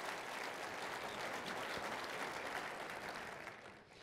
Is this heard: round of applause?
yes